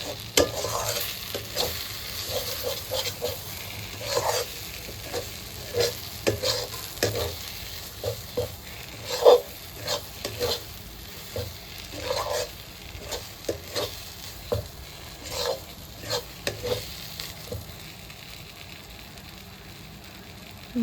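Vegetable peels frying in a pan with salt and turmeric, a low sizzle broken by regular scraping strokes of a spatula stirring them, close up and steady with no talk.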